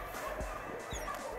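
A nervous long-haired dog gives faint, soft whimpers indoors, low and intermittent beneath steady background noise.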